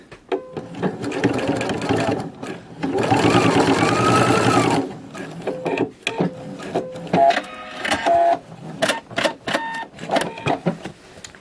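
Sewing machine stitching piping cord in fabric, running in a long continuous burst followed by several short stop-start runs, close up, with talking over parts of it.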